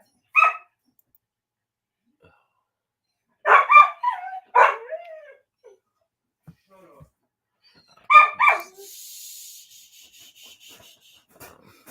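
A dog barks in sharp clustered bursts, a single bark, then several in quick succession, then another pair, each standing out loudly against near silence with faint background noise between them.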